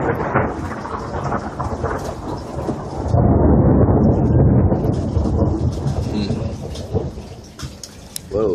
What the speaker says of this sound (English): Whoa, here comes some rain.